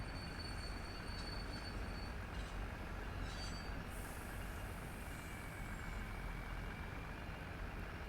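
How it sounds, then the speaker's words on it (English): A train rumbles past steadily in American Truck Simulator with a dense low roar, faint high squeals and hissing rising over it; no voices. "There's a train."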